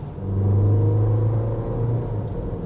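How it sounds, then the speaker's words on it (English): Engine of a 2026 Audi Q5 running, a low steady hum with a slight swell as it revs, quiet and smooth with no talking. "This is a very quiet and refined engine as well."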